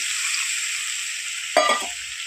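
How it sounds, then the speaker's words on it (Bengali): Ginger-garlic spice paste sizzles in oil for beef kofta curry, a steady close frying hiss broken near the end by a short clatter of stirring. "দেখেন পুরো তেল কেটে চলে এসছে তাহলে মনে করবেন আমার পুরো মশলাটা কষানো হয়ে গিয়েছে"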